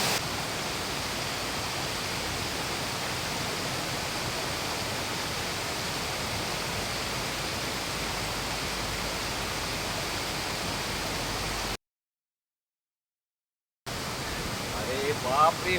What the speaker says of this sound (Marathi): हा केवढा मोठा धबधबा